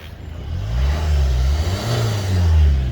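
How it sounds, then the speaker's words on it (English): A 2012 Ford Galaxy with a 1.6 TDCI diesel engine, manual, revved while parked: the engine note climbs, dips and rises again in a smooth up-and-down hum, close and loud, with no voices over it. "I'll just rev it up"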